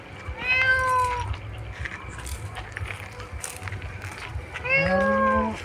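A cat meows twice, one call near the start and another near the end, close and fairly loud over rustling background noise.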